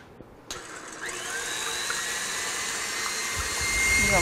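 Electric mixer whipping egg whites with a spoonful of refined sugar, a steady high whirring motor drone that starts with a click and runs continuously, growing slightly louder toward the end.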